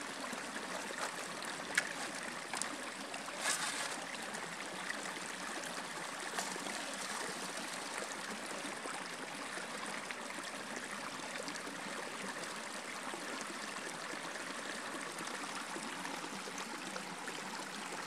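A river stream flows steadily near Connonish in the Scottish hills by Tyndrum in October, a continuous rushing, gurgling wash of water close by with no talk.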